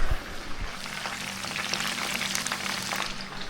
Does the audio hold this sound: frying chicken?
yes